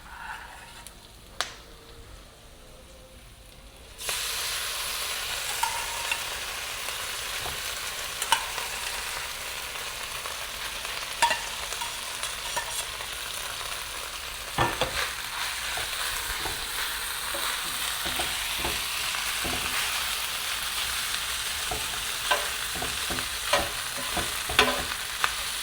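Cooked rice hitting melted butter in a hot pan, then a steady loud sizzle and frying hiss for a long stretch, with occasional scrapes and clicks of stirring close by.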